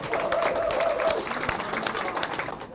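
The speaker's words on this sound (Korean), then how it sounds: "큰 박수 부탁드리겠습니다" Audience applause at a political campaign event in Korea, a dense wash of clapping from a crowd, fairly loud and steady, tapering slightly near the end.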